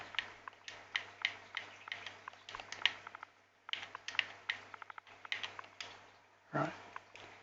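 Keys clack on a keyboard in quick, uneven bursts of close, fairly quiet taps while a name is entered into the Xbox Series X controls menu of MSFS 2020, with brief pauses between runs.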